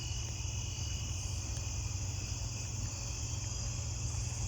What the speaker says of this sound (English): Oh, I think I'm hearing another broad-winged.